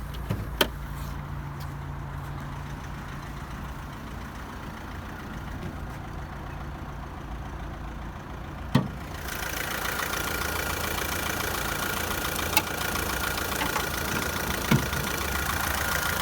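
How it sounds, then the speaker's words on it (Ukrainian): A 2011 Opel Astra engine idles with a steady low hum, joined after a faint click by a louder, brighter whir; a few soft taps, no talking. "Робота мотора ідеальна."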